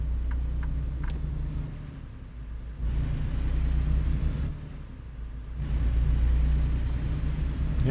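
A truck engine in American Truck Simulator rumbles and revs in low tones, rising in surges twice as it accelerates, steady and fairly close.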